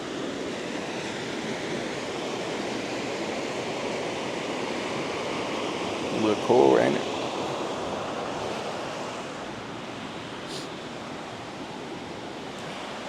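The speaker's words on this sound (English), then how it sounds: "I'm out on the river." Water rushing steadily along a river outdoors on a cold day, a broad constant wash mixed with wind buffeting the microphone, with someone briefly speaking midway.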